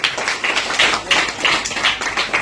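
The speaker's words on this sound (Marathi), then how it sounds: "सगळ्यांनी टाळ्या वाजवा." Audience clapping at a 63rd birthday celebration held at an orphanage and old-age home, steady rhythmic applause from a small group, moderately close, with no talk over it.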